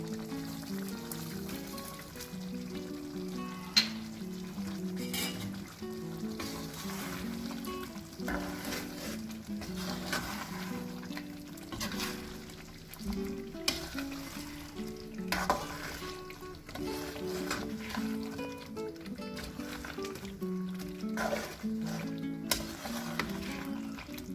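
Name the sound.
stirring crispy fried onions in pan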